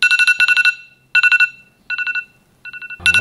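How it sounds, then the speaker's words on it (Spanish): An electronic alarm beeps in rapid bursts of high, bright pulses, pausing briefly between each burst and repeating over and over, loud and close with no voices. "Tienes una jodida alarma sonando y sonando"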